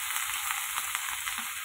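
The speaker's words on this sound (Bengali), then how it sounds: "তেল আমার গরম হয়ে গেছে, দিয়ে দিচ্ছে যে পেঁয়াজ কলিগুলো" Onion stalks frying in hot oil give a continuous, close, even sizzle with a dense crackle, and no voices over it.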